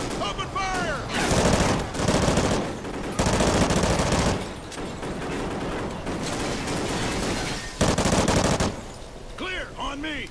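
Dense gunfire in the Call of Duty Ghosts video game: sustained bursts of automatic weapons and volleys of shots, loud and close, broken by brief lulls, with shouted voices mixed in.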